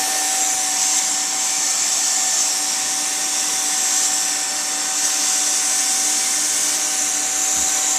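A hot air gun blows steadily while heating plastic boot material, giving a constant whooshing hiss with a faint whine, close and even throughout.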